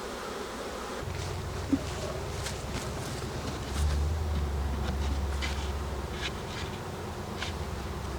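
Honeybees buzz steadily at an open beehive during an inspection, a dense close swarm hum running throughout the stretch with faint handling noises and no talk.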